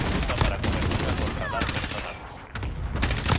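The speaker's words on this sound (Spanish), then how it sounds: "Hay disparos." Rapid bursts of gunfire in Call of Duty: Modern Warfare multiplayer on the Rust map, loud and close, coming in several clustered volleys with brief gaps.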